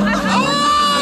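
A crowd at a limbo contest during a car meet cheers and whoops loudly, a brief burst of excited shouting voices up close with higher children's cries mixed in.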